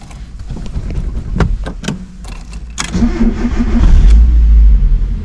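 A Mazda Miata, just repaired after a crash, cranks over with a few clattering bursts, then catches and settles into a loud, rumbling idle close by.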